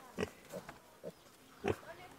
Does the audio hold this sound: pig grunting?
yes